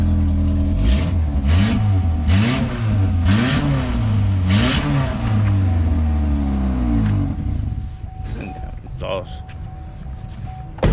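A car at a dealer-only auto auction in Oklahoma revs repeatedly through a loud exhaust, the engine note rising and falling in rhythmic bursts up close before settling to a rough idle as a voice talks over it.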